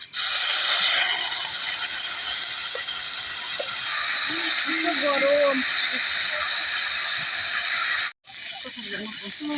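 Boiled pointed gourd (domor) hits hot oil in a village kitchen, giving a loud, steady broadband sizzle and hiss that runs nearly throughout, with a brief drop near the end before the frying resumes.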